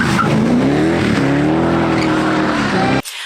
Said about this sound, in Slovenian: Ej, cviljenje gum.